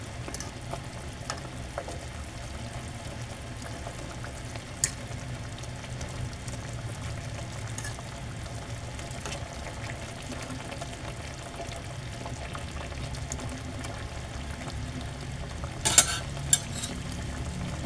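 Pork chop steak frying in a pan, a soft steady sizzle throughout, with a few clinks of the pan or utensil near the end.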